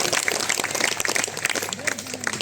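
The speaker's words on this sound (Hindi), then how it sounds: "आप अपनी तालियों के साथ जोरदार अभिनंदन उनका करें" Applause from the audience at a memorial gathering for a spiritual leader, loud uneven clapping from a crowd with a voice and faint tones underneath.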